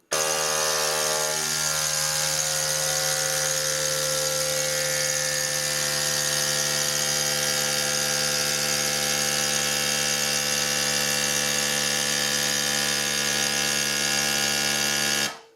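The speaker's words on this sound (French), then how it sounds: "On appuie sur le bouton d'aspiration externe" A CalmDo vacuum sealer pumps air out through its external hose in a steady, close electric motor hum that holds an even pitch and level for about fifteen seconds before cutting off.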